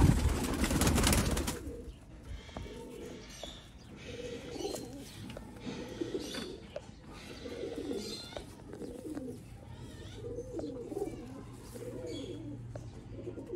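Sialkoti pigeons coo in a steady run of soft, rounded, repeated calls, close by and fairly quiet, after a short burst of rustling noise at the start.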